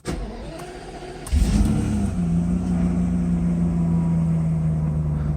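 A Mercedes 500SL that has sat unused for about a week cranks briefly and then starts, its engine catching loudly and settling into a steady close idle.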